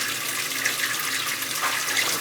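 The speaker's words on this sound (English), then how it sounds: "Got all the faucets open upstairs. I could drain it back over there. Just draining everything back." Water rushes steadily from open faucets as a house's plumbing is drained, a continuous close hiss and splash with no pauses or voices.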